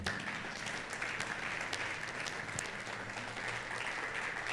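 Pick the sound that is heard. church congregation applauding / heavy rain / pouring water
church congregation applauding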